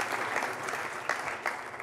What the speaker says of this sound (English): You can clap for them and me as well. Go ahead. You can clap.